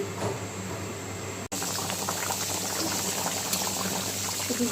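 A potato and banana flower curry simmers after water is added, bubbling steadily and close at hand with a brief cut-out near the start, then an even boil.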